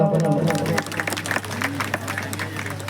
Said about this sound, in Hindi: ताली लाओ।